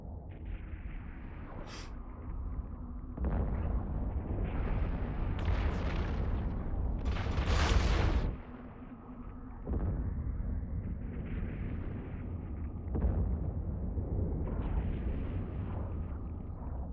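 Battleship turret volleys in the space game Eve Online, heard as a dense run of heavy booming blasts and rumbling bursts layered over a steady low drone, loud and continuous with no talk.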